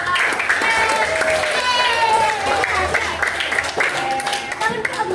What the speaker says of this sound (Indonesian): Kalau gitu tepuk tangan dulu untuk kita semua.